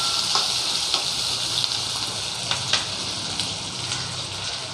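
Onions frying in oil in a clay mud pot for a dry croaker fish gravy, a steady close hiss and crackle with a few sharp pops, no voices.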